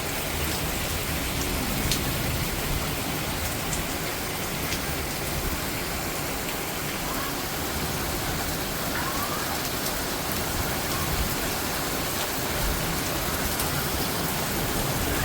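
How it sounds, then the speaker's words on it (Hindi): Steady, heavy rain pours down continuously, a dense, even hiss of drops hitting surfaces with no break and no voices. "ये देखें क्या बारिश आ रही है।"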